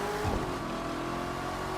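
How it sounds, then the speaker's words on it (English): A car engine revs steadily in The Crew 2 racing game, a loud, sustained droning whine that holds throughout with a brief rough burst near the start and no talk over it. "Slowing in and keep revving back up."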